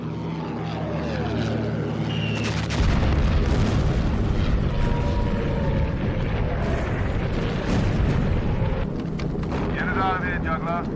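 A bomb drops from a bomber aircraft and explodes in wartime action, a heavy boom rising over the constant roar of propeller engines, with a whistling tone heard near the end.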